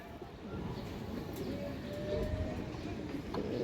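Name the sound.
pigeon cooing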